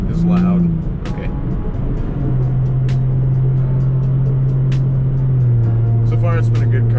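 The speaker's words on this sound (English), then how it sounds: "I chopped the whatever it is, the intermediate muffler out of it, so it is loud." An Infiniti G35 sedan with its intermediate muffler removed, its exhaust droning loudly at a steady idle with a slight rise in pitch, while someone talks over it.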